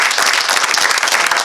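A local town meeting audience claps loudly and briskly, with dense overlapping hand claps at close range throughout the short burst and no talking.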